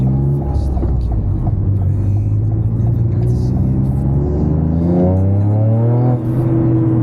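A tuned Toyota GR Yaris with an unlocked ECU and GPF delete accelerates hard, its engine note rising steadily through the rev range from inside the car, loud and continuous, with a brief dip near the end as the pitch climbs again.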